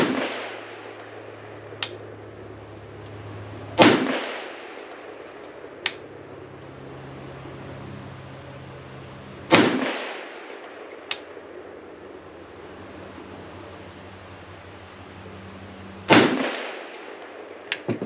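A Palmetto GF5 AK rifle fires Tula ammunition outdoors, three loud, sharp gunshots spaced several seconds apart, each with a ringing tail, with faint clicks in between.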